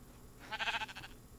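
A sheep bleats in a video game, one wavering call rising out of a quiet backdrop and fading after about a second.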